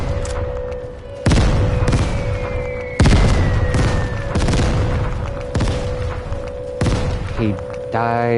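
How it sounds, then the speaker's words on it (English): Mortar explosions in a video game: a string of heavy, broadband booms land every second or two over a steady humming tone, each blast loud and close, with a brief warbling effect at the very end. "He died to the mortars."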